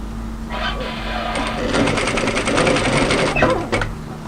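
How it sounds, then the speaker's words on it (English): A sewing machine stitches a line along the underarm seam of a winter tee dress, a rapid, even mechanical whirr that speeds up and runs steadily for a few seconds before stopping. "we're going to start at the side seam, sorry, at the underarm seam, and stitch a nice line"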